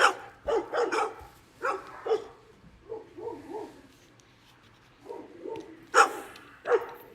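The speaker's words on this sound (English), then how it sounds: "Dogs barking at blinking lights." A dog barks outdoors at night repeatedly in quick bursts and clusters, some louder and some softer, over a low steady background hum.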